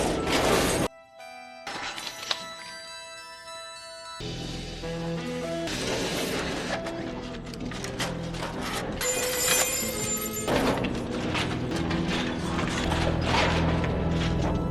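Dense mechanical clanking, ratcheting and grinding of metal parts, loud and continuous after a brief quiet start, like an engine reassembling.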